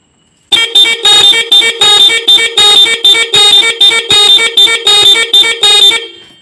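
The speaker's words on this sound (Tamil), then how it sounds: "இப்போ வந்து பைக்கை ஆன் பண்ணி ஹாரன் அடித்து பார்ப்போம்" A three-horn set fitted to a Hero Glamour motorcycle blares in a rapid rhythmic pattern of short repeated honks, about a dozen bursts, close by, with no voices.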